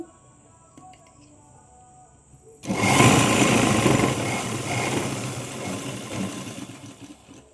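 Sewing machine stitching a Punjabi dress, starting abruptly after a quiet stretch and running as a steady, fairly loud mechanical whir through to the end.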